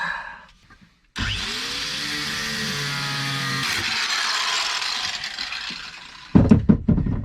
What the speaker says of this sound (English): So it's bronze, so I'm going to use my angle grinder and cut the nut off